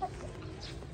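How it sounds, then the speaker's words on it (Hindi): A rooster gives a short, close cluck over a low background hum, lasting under a second. "ये मेरा वन ऑफ द फेवरेट मुर्गा"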